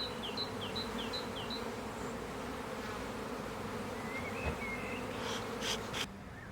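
Honeybees buzzing steadily around a row of beehives with honey supers fitted, a continuous close drone with birds chirping faintly in the background.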